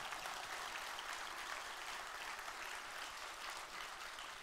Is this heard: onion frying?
no